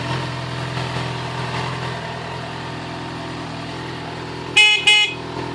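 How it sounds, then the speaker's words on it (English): A Yamaha XJ6 motorcycle idles steadily with a low engine rumble, then its horn gives two short, loud honks in quick succession near the end. "Nice loud horn,"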